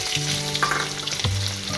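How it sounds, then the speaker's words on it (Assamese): Bay leaves and onion fry in oil in a clay pot, a loud, close, continuous sizzle with a few brief stirring knocks. "তেজপাত টেকিলা দিছোঁ, লগে মই পিঁয়াজখিনি দি দিলোঁ।"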